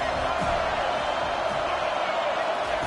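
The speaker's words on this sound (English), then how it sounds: "Decibels rising as the crowd gets behind this defense on 3rd down." A college football stadium crowd roars on third down as fans back the defense in a big game, a dense, loud, unbroken wash of noise with a few faint thumps beneath.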